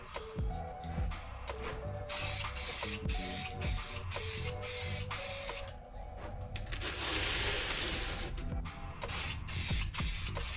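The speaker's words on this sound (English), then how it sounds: "While the black's still wet, I spray the clear over it" Spray can applying clear coat wet-on-wet over black Rust-Oleum primer on a 1949 Jeep Willys gas tank, with bursts of hissing spray broken by short pauses and mechanical clicks, close and steady.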